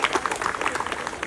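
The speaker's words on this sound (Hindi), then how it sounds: "तो एक बार आशीष जी की ताली बजा दीजिए" Audience applause at a talk on environmental protection and humanitarian service, a dense burst of clapping from a seated crowd lasting about a second, steady and fairly loud throughout.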